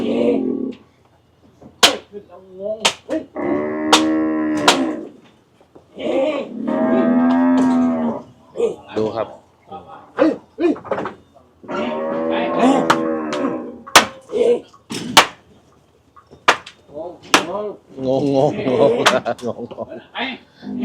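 Cattle at a livestock market moo loudly and repeatedly in long, drawn-out calls, close by and overlapping, with people talking in between.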